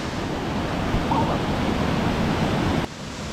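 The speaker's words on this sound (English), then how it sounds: "I'm at the waterfall." A strong, cold waterfall in a rainforest roars as a steady, dense wash of rushing water close by, broken only by a slight drop in level near the end.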